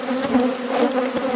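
Bees hum in a dense, steady buzz close to the microphone during a hive inspection after winter, the swarm's drone swelling and easing slightly without pause.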